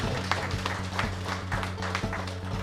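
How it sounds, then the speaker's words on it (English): An audience applauds Barama Company Limited's achievement at a GNBS business event, giving a steady round of applause at moderate distance over a constant low electrical hum. "I think we should give them a good round of applause today."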